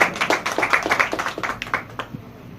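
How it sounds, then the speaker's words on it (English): A small group at an anniversary celebration clapping in brisk rhythmic bursts, close and fairly sparse, fading after a couple of seconds. "Please give him applause."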